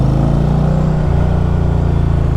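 Indian Pursuit Power Plus 112 touring motorcycle engine running on the road, captured from the rider's helmet as a loud, steady low rumble with a throbbing mid-range growl, briefly shifting in pitch, alone without speech.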